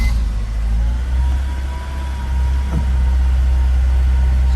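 A 2007 Honda S2000 with an OEM hardtop idles on a cold start, a loud, steady low engine rumble heard up close with no talking.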